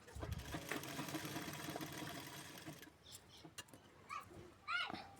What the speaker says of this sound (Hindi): मैंने इसे जॉइंट किया है और खड़ी सिलाई लगा रही हूँ